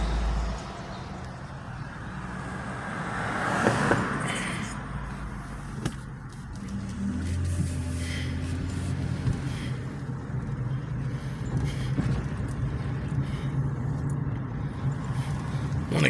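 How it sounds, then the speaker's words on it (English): Traffic noise from cars passing along a city road near a Social Security office, a steady low rumble of vehicles with a louder pass around the middle, no talking. "Cars up behind me again."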